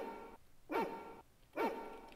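Beauregard the dog in The Colonel's Bequest video game barks twice, evenly spaced, in a moderate retro-game tone over a faint steady background hum.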